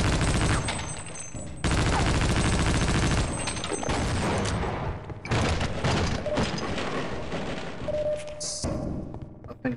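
Heavy weapons fire in the video game Half-Life: Opposing Force pounds out in loud, dense volleys of rapid shots and booming thuds, with brief pauses between sustained bursts.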